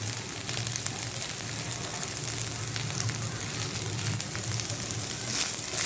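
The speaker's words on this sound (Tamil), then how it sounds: "தேங்காய் கருவேப்பிலை தேங்காய் எல்லாத்தையும் சேர்த்து நல்லா வதக்கி விட்டுடலாம்" Grated coconut, curry leaves and coriander sauté in a pan for Chettinadu kara kuzhi paniyaram, giving a steady, even sizzle and crackle that holds throughout.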